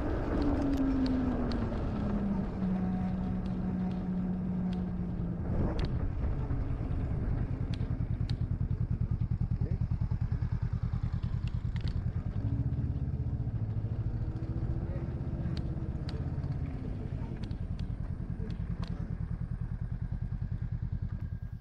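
Motorcycles ridden along Andalusian roads through olive groves in winter, a steady engine drone with wind rumble running throughout, shifting pitch as the bikes change speed.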